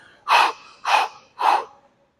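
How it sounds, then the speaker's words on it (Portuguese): Three forceful hyperventilating breaths taken in preparation for a leg workout set, each a loud, close, rushing exhale in even succession with short pauses between and no talking. "Essa questão da respiração que eu faço, mais forte"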